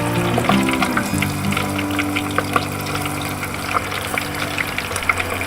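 Battered cuttlefish chips and squid rings deep frying in oil, a steady bubbling sizzle with crackling pops over a low hum, close and continuous with no talk.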